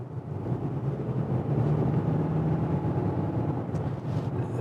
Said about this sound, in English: let's get that gasoline engine kicked in.